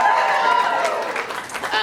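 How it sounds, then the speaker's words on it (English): A comedy festival audience cheers and applauds for a stand-up comic, filling the room with dense clapping and shouts from nearby, with voices mixed through it. "You can cheer for yourselves."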